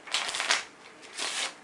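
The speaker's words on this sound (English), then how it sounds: "couple of cuts and shuffles. Sloppy shuffles, but still shuffles." A deck of playing cards cut and riffled in two loose, sloppy bursts, close and crisp, with a short pause between them and no voices.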